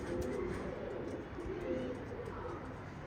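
A male pigeon coos in soft, repeated low rolling calls over a steady background hum, with no talking.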